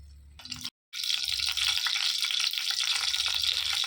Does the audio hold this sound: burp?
no